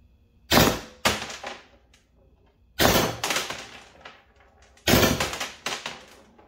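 A Valken M17 airsoft rifle fires three separate controlled bursts, each a tight cluster of two or three sharp snapping shots from close by, separated by brief quiet gaps.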